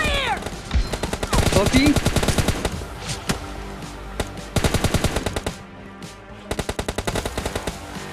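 Rapid bursts of automatic gunfire in the mobile shooter PUBG Lite, several loud clusters of shots separated by short pauses, with brief talk over the start of the firing.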